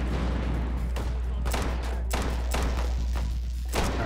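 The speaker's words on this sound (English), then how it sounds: "all these explosions." Explosions in the VR game Hot Dogs, Horseshoes & Hand Grenades pound in loud, overlapping bursts over a constant rumbling din, with several sharp blasts standing out across the few seconds.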